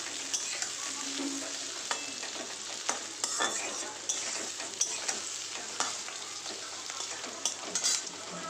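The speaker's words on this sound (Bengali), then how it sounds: "এবার পেঁয়াজগুলোকে না একটু লাল লাল করে ভেজে নেব।" Onions fry in a pan for a chicken recipe, a steady sizzle broken by repeated scraping stirs of a spoon against the pan, close and clear with no talk.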